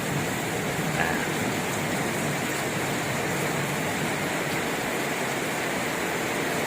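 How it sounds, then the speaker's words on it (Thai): Heavy rain pours down steadily outdoors on a dark day in Sisaket, Thailand, a dense continuous hiss and roar at constant loudness with no breaks. "ฝนตกแรงมาก นะครับ ฝนตกแรงท่านผู้ชม"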